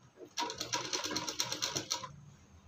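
Sewing machine stitching a half-inch folded hem on a plazo, one steady run of rapid needle strokes lasting about a second and a half, close and fairly loud, with quiet before and after.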